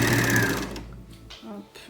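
An overlock sewing machine runs briefly, stitching the ends of a knit rib neckband, with a loud close whir for about half a second that then winds down and stops, followed by faint handling sounds.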